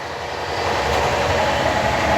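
Superfast passenger train from Akola bound for Mumbai running steadily, a continuous broadband rumble and rush with no distinct clicks, heard from on board.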